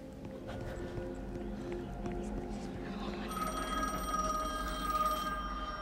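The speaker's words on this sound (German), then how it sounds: "Da klingelt just das Telefon." A phone rings in a scene of the game The Medium, its electronic trill joining partway through over a bed of ambient sound and faint background activity.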